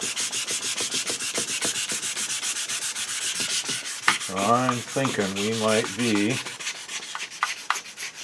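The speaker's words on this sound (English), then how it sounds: "I am sanding right down to the bottom with not a lot of effort" Steady back-and-forth rasping of sandpaper on wood in a regular rhythm, close up, continuing under a brief stretch of speech midway.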